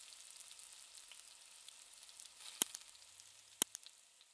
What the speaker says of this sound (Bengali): এক সাইড ভাজা হয়ে গেলে উল্টে অন্য সাইড ভেজে নেব।